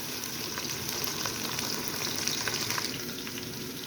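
Onions frying in a pan until browned for a meat shorba give a dense, continuous sizzling hiss, close and even in level throughout, with no talking.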